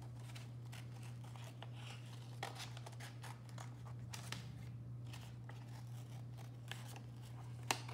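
Quiet, close snipping of scissors through paper, with scattered crisp cuts over a steady low hum.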